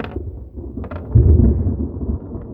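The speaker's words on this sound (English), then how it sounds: "We got some thunder coming in." Thunder rolls in outdoors beside a fishing spot, a low rumble that swells to a loud peak midway through and then lingers as a steady, distant growl with no talking.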